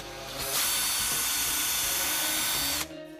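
A power drill whirs at a steady high pitch for a few seconds, close and loud, drilling through a lacrosse ball, before spinning down.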